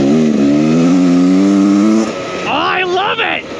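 A 2023 Beta Xtrainer 300 two-stroke enduro bike on DOT street tires holds a loud, buzzing rev before dropping off and rising again in short throttle blips, recorded close from the rider's position.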